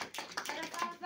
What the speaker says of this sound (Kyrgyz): Шуга бир кол чаап коелу.